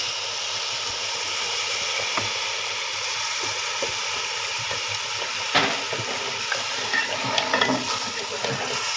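Water hits fried rice in a large pot for wedding-style chicken polao, giving a loud continuous sizzling hiss with occasional stirring scrapes and clinks up close.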